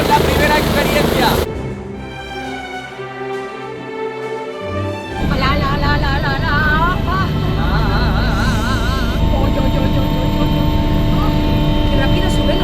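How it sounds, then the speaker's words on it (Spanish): A helicopter at a Formula 1 circuit lifting off and climbing, its loud engine and rotor roar filling the clip, with a quieter stretch early on before the roar swells back strongly. "Qué rápido sube, ¿no? En helicóptero, chicos, el vuelo va a durar 10 minutos."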